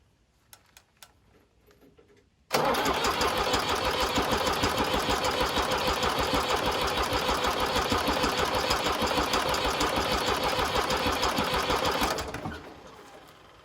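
A Fiat crawler tractor's diesel engine with a Bosch VE pump cranks to start: a loud, close, fast regular chugging begins abruptly, runs evenly for about ten seconds and then stops.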